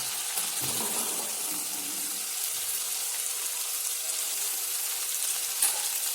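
Cauliflower fries in hot oil, giving a steady, even sizzling hiss that stays close and continuous throughout.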